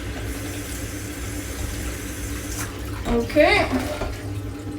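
Hot water from a just-boiled kettle poured into a pot for soup stock, a short gurgling splash rising near the end over a low hum, with a brief spoken word.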